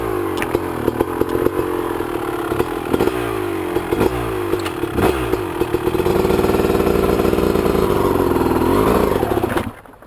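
A dirt motorcycle revs on a muddy trail after a rainstorm, loud choppy engine bursts giving way to a sustained high rev held for several seconds before cutting off abruptly.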